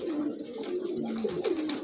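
Pigeons coo nearby in a steady run of soft, low, throaty calls that rise and fall, with brief rustling and no talk over them.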